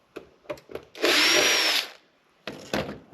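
A power drill backs out screws in one long whirring burst of nearly a second, set between short scraping and clunking handling noises, close and loud.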